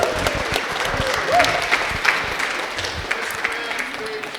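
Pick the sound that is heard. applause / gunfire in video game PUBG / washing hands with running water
applause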